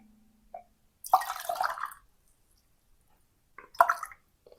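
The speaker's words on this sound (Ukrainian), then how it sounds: "Відмірюю до чашки, вливаю трішки води." Two short splashy bursts of warm boiled water being poured into a cup, with a faint drip before them and quiet pauses in between.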